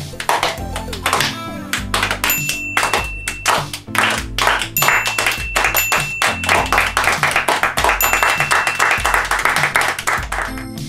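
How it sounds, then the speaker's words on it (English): Comedy clapping, a run of sharp, rapid hand claps with tinkly ping accents over a busy musical backing, steady and loud throughout. "Comedy clap."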